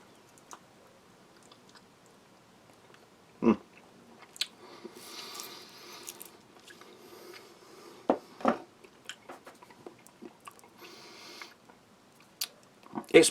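Someone chews a sticky, chewy Taiwanese lactic acid candy still partly stuck in its cellophane wrapper, with soft, close, irregular munching, squishing and occasional crinkles over quiet background.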